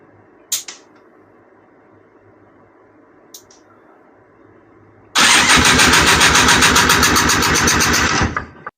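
A cold, carbureted engine on a Honda Odyssey FL350 buggy is cranked and fires up, with a couple of faint clicks before a sudden loud, steady chugging run that lasts a few seconds and then drops off abruptly.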